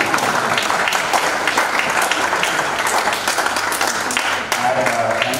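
A sports coaching panel audience breaks into steady, dense applause that fills the room with close, continuous clapping from start to finish.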